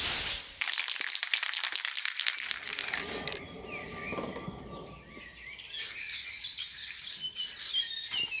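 Hand sanding scratches and rubs across the body panel of a 1991 Peugeot 605 3.0, with bursts of rasping strokes, pauses and faint birdsong outdoors.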